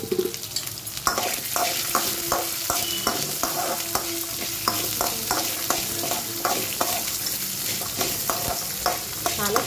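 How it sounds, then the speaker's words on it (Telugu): Sambar onions and sliced onion fry in a hot pan for hotel-style tomato chutney, with a steady loud sizzle and a spoon scraping and stirring in regular strokes, close up and with no talking. "కొంచెం ఆనియన్ అది పచ్చి వాసన పోయేంత వరకు ఫ్రై చేసుకుని"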